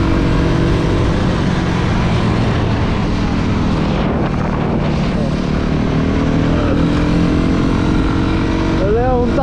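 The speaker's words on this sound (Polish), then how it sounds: "Leon tatę przewiózł motocyklem." A Honda motorcycle rides past with a continuous, loud engine drone mixed with heavy wind roar, steady and close throughout.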